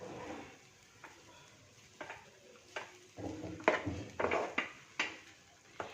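A corn cutlet mixture with oregano and salt is stirred in a pan with irregular scraping strokes and light sizzling, getting busier and louder in the second half.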